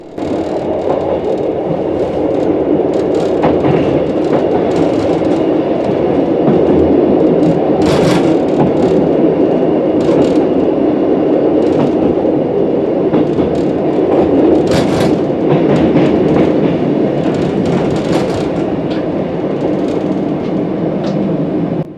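A train runs on the rails between Wolverhampton and Chester, heard from the driver's position as a loud, continuous rumble with occasional clicks and brief high squeals from the wheels, and no voices.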